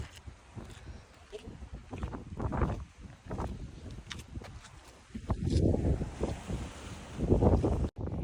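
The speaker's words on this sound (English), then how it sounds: "It's so windy out here." Strong gusts on Naxos, Greece, buffet the microphone in heavy, rumbling bursts that rise and fall, with faint voices under the wind.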